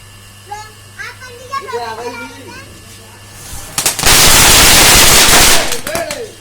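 Firecrackers burst at a wedding party in rural Uttar Pradesh, erupting into a loud, dense crackling barrage of rapid bangs after a stretch of nearby children's voices and chatter.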